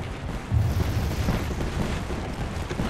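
Knuckle Cluster bombs going off in Apex Legends Season 16: a loud, continuous low rumble of blasts that swells sharply near the start and keeps booming.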